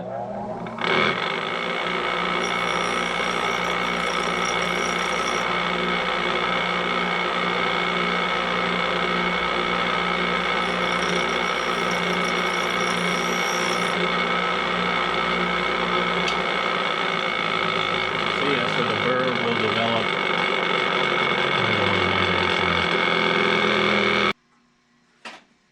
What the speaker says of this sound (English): I'm just going to do a very light grind on